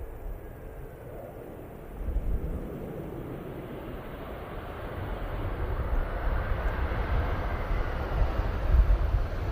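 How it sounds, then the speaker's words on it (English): A Vueling airliner lands at blustery Barcelona Airport, a steady broadband jet roar with wind buffeting that swells after about two seconds and keeps building toward the end, with no voices. "nice landing there from the Vueling"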